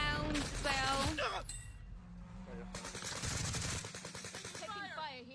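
Gunfire in the Warzone video game: bursts of rapid automatic fire crackle in quick runs, mixed with shouting teammates talking over the shots at moderate volume.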